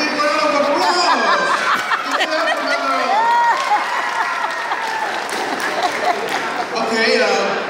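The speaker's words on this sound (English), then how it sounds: "they will give you a big round of applause" A magic show audience breaks into loud, sustained applause mixed with cheering and a little laughter, filling the room steadily from start to finish.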